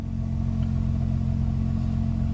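A car fitted with a Grannas Racing T56 Magnum transmission runs with a steady, close engine drone and low rumble, held at an even level throughout without clear rises in revs.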